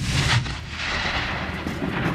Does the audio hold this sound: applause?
no